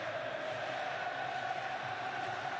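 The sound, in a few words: crowd of Saudi Arabian supporters cheering at football match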